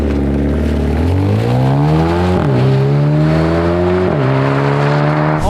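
A sports car engine revs up and down repeatedly, climbing in pitch, dropping back and rising again, loud and close and steady throughout with no voices.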